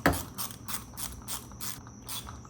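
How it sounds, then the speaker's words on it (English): An 8mm box end wrench tightening a throttle body bolt on a BMW S54 engine, giving off a steady run of about eight evenly spaced ratcheting clicks, close and clear. "So we take a 8mm box end wrench, put it on the back side, and then tighten this bolt."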